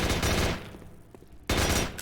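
Bursts of automatic gunfire in a Warzone match, a dense volley of rapid shots, then a quieter gap with a couple of distant pops, then another loud burst of fire.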